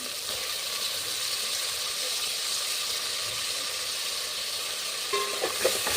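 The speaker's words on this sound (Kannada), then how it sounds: "ಟೊಮೆಟೊನ ಎಲ್ಲ ನೀಟಾಗಿ ಫ್ರೈ ಆಗಲಿ." Tomatoes frying in an onion-garlic tempering in a pan, an even steady sizzle and hiss throughout, with a few stirring scrapes near the end.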